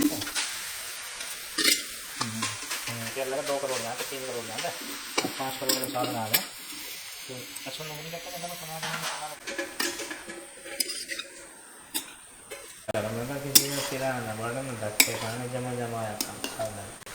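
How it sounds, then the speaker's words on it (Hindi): Grated bottle gourd (lauki) is stirred in a kadhai with a steady scraping and soft sizzle, close and continuous, beneath a tonal, voice-like background throughout. "तो फिलहाल चढ़ा दिया कढ़ाई, और उसमें लौकी कस के डाल दिया है"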